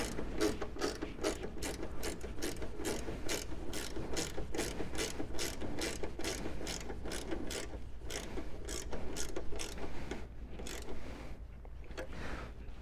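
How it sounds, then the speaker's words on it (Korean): Ratchet wrench tightening nuts while fitting a hood damper on a Kia Carnival KA4, a close, fast rhythmic clicking of the pawl in steady bursts that slow and thin toward the end. "먼저 이쪽에 너트를 잠가 보겠습니다."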